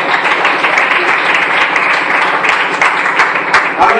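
A church congregation breaks into sustained applause at the close of a service, a dense, steady wash of clapping hands that fills the room without a break for several seconds.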